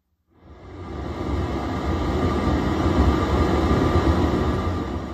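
A Tiptop Buchla 266t synthesizer module puts out a steady broadband noise hiss that fades in and holds loud and continuous, crossfading between pink, white and blue noise without pauses.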